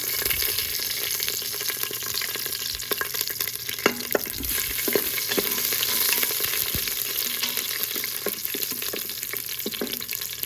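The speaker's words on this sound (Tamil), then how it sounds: "இப்போ எண்ணெய் கொஞ்சம் சூடானோடனே கொஞ்சோண்டு கடுகு, கொஞ்சம் சீரகம், ஒரு வரமிளகா, அப்புறமா 3 பூண்டு பல் இந்த மாதிரி தட்டி வச்சுருக்கேன்." Mustard seeds, cumin, a dried red chili and crushed garlic cloves sizzle steadily in hot oil, a close, continuous frying hiss with scattered small pops and crackles throughout.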